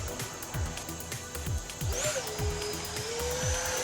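An FMS Su-27 70mm electric ducted-fan RC jet in flight, with a steady high-pitched fan whine that sweeps in pitch as it passes, over rhythmic pulsing background noise.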